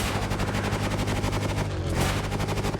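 A stock car's exhaust in The Crew Motorfest racing game crackles with rapid, loud popping bursts over a dense engine roar, continuous and close, with no talking.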